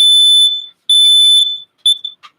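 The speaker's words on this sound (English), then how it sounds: "it sets all the smoke alarms off as well" Smoke alarms set off by burning calcium beep loudly and shrilly in three long piercing bursts with short gaps, then a brief final chirp, and nobody speaks.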